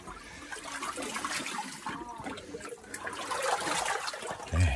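A natural spring in a canyon pours and splashes nearby, a continuous gurgling flow that grows slightly louder toward the end, with no voices.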